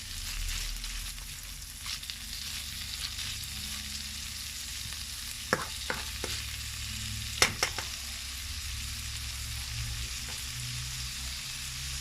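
Bacon frying in a pan with onion and celery about to go in, a steady broadband sizzle throughout with a few sharp clicks of a utensil against the pan midway.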